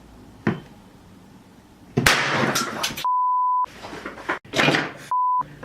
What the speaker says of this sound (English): which plugs to my cell phone and I can play any tone from it